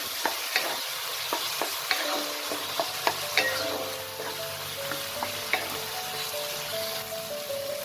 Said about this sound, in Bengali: দিয়ে মশলাটাকে ভালো করে এবার কষিয়ে নেব